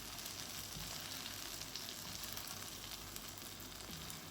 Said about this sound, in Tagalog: Ilagay ko na ang ating scrambled egg. Halo-haloin lang natin